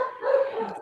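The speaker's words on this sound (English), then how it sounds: "And so that's what the dog sounds like." A dog gives a single short bark or yip, brief and fairly close, with nothing else around it.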